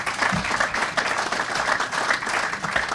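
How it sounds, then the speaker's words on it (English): An audience at a school groundbreaking ceremony claps in sustained, moderately loud applause, a continuous wash of many hands with slight swells in intensity. "Let's give a round of applause."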